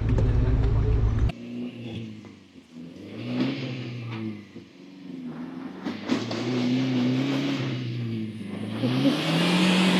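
A Range Rover L322 with a faulty differential pulls away on a rough country track, engine revving up and down in low, rising tones after a brief loud thump at the start.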